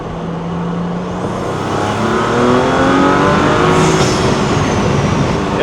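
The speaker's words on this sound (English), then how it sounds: "I can hear the turbos spooling up." A lowered Audi RS5 with a 034Motorsport turbo inlet accelerates after a downshift, its engine roaring close by while rising turbo whines climb and swell over several seconds.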